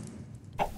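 Two short, close chicken clucks from Minecraft, clipped and bright, following a moment of near silence.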